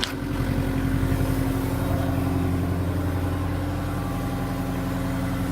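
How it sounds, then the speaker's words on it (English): A medium-sized skid steer's engine runs steadily at idle nearby, a loud, even diesel-like drone with a throbbing low pulse and no talk. "this is our medium-sized skid steer"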